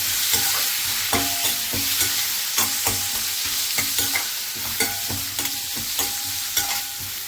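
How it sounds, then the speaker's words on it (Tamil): Curry leaves, ginger and dried chilies sauté in a pan under a constant sizzle, with a rhythmic series of sharp spatula scrapes and taps repeating roughly every half second. "இப்போ இதில் கருவேப்பிலையும் ஆட் பண்ணிக்கிறேன். கருவேப்பிலை லைட்டாக ஒரு வதக்கினா போதும்."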